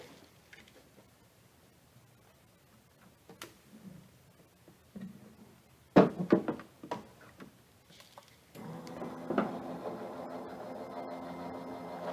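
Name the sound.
die cutting machine running card through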